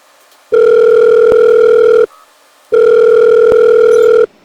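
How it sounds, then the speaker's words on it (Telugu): Two long, loud electronic telephone ringback tones, each about a second and a half, separated by a short pause, heard alone as an outgoing call waits to connect. "వాళ్ళ నెంబర్ కూడా తీసుకున్నాను ఒకసారి కాల్ చేసి మాట్లాడదాం"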